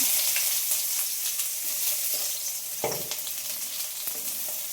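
Chopped onions fry in a little oil in a pan, giving a steady loud sizzle with a few soft stirring clacks and no voices.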